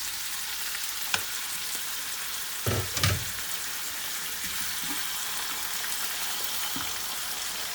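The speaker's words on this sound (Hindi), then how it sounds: "अब इसके अंदर हम लोग ये दोनों अंडे डाल देंगे" Two eggs fry in a pan seasoned with salt, red chilli and black pepper, giving a steady close crackling sizzle broken by a couple of brief clatters from a utensil against the pan.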